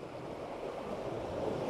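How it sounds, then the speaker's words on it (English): Ocean waves washing in on a shoreline at sunset, a steady broadband surf wash that swells slightly louder toward the end, with some wind noise on the microphone and no talking. "See, the problem is that second wave's coming in"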